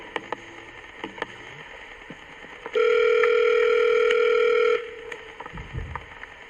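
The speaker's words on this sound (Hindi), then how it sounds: "रुको, मैं उसे फोन करके पूछता हूँ।" A few faint clicks as a telephone call is dialed, then a steady electronic telephone tone sounds for about two seconds before cutting off into quiet room noise.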